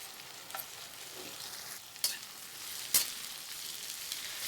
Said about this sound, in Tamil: ஒரு கடாயில் கொஞ்சமாக எண்ணெய் சேர்த்துட்டு அந்த வெங்காயத்தை சேர்த்து நல்லா வதக்கிக்கலாம்